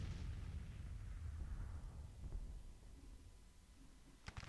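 Civil War artillery in Grand Tactician: The Civil War, deep muffled cannon booms rumbling low and somewhat distant, fading through the clip before a sharper crack near the end, with no talk.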